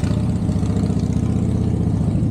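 Car engine running while driving in Matera, southern Italy, a steady low hum and rumble at constant pace, close and loud throughout, no speech.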